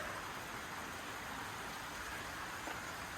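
Steady, dense rainfall hisses continuously over a Black Sea village in Turkey, close and even throughout with no pauses.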